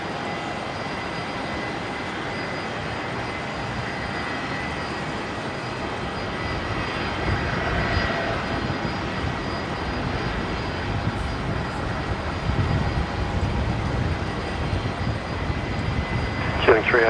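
Qatar Airways airliner taking off from runway 19 left at Brisbane, a continuous roaring jet engine rumble building gradually louder over the whole stretch, with faint radio voices in the background.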